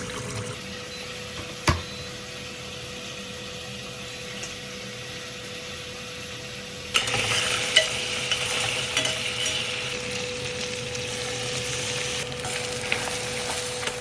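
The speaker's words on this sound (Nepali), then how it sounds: "प्याज, लसुन अदरक अनि यो मटनलाई मजाले भुटेर रातो बनाएँ।" Onion, garlic, ginger and mutton frying in a pan for a Nepali-style mutton curry: a steady sizzle with the scrape of stirring, a sharp clink early on, then a louder, fuller crackle as the frying intensifies partway through.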